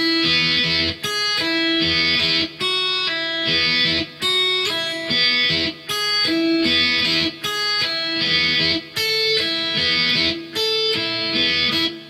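Electric guitar slowly plays a song riff, distorted power-chord hits repeating in a steady looping pattern with short gaps between phrases, loud and close, no talking.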